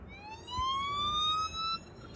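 An ambulance-style siren effect in a Marathi ghazal about city traffic gives a single rising wail that climbs and holds, then cuts off abruptly, at moderate volume.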